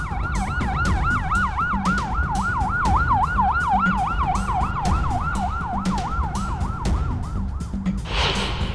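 An ambulance siren wails in a fast, continuous up-and-down cycle, loud and near, over road and engine noise. It ends with a brief burst of broader noise.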